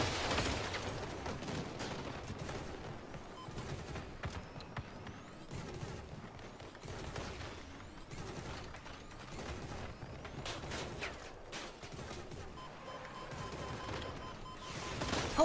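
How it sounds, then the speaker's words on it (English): Rockets and weapons firing during a Crossout vehicle combat match, a dense barrage of repeated sharp blasts and bursts over a continuous mechanical din, loud and busy throughout. "How is he still shooting his rockets?"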